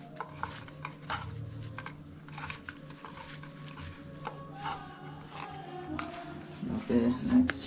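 A spoon scrapes and clinks in a pan as kothu parotta is stirred into masala, soft irregular scraping and tapping close by, with quiet voices in the background.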